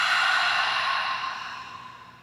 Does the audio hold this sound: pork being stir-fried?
no